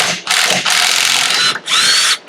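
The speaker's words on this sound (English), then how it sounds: "you can still use an impact to get it off" Impact wrench spinning out a 19 mm fork base valve during a fork rebuild. Three loud, close bursts of high whirring whine separated by brief pauses, with no talking.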